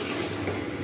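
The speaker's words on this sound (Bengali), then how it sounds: "আমাদের মাংসটা ভাজা হচ্ছে" Chicken meat frying in a pan for a gravy chicken dish, a short steady sizzle with faint crackle, close and continuous with no voices.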